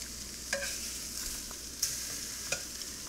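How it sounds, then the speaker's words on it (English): Chunks of alligator meat sizzle steadily while browning in a pan, a constant soft frying hiss broken by a few sharp utensil taps and stirring clicks, with no one speaking. "we're going to do this over and over again until all the alligator meat has been browned"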